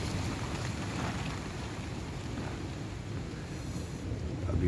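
A steady outdoor rush of wind with low rumble and soft hiss, fairly constant and moderate in level, with no voices.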